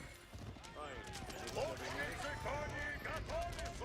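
Hooves of horse archers in the Age of Empires IV strategy game clatter continuously at mid distance, mixed with busy battle noise and a steady game soundscape.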